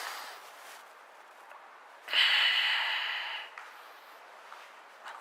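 A single deep nasal inhale during traditional yoga practice, a breathy rush lasting about a second and a half against a quiet room, close and moderately loud.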